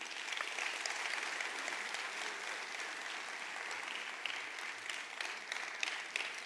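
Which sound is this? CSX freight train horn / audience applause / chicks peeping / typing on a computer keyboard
audience applause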